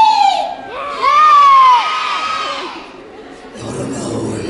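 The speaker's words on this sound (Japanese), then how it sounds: "ちびこちゃんだけでちょっと叫び声をちょっと聞かせてもらっていい？" Young children at a Universal Studios Japan show scream and cheer together in loud, high-pitched bursts that swell and fade, followed by a quieter crowd murmur.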